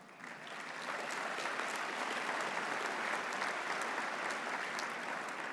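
Sustained applause from a large audience at a briefing swells within the first second and then holds steady and dense, a wash of many clapping hands with no voices above it.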